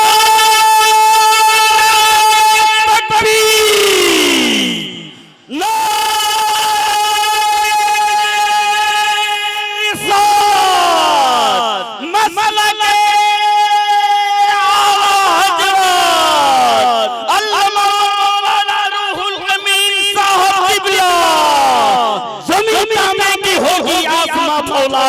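Large crowd at an Islamic religious speech gathering chanting the takbir slogan in loud unison, several drawn-out sustained shouts that fall off in pitch at their ends, repeated in waves with brief gaps.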